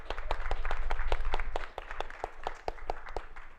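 A small conference audience claps in a quick, fairly even rhythm, close by and moderately loud, with the clapping loosening toward the end.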